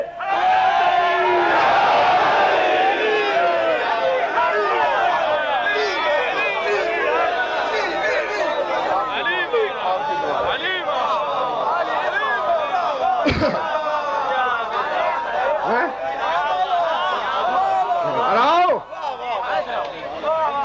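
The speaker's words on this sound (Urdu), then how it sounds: "اپنی نشستوں سے کھڑے ہو کے دونوں ہاتھ بلند کر کے نعرے" A large crowd at a religious celebration for Imam Ali chants slogans together, a loud, continuous mass of raised voices filling the space, with a couple of sharp thumps cutting through.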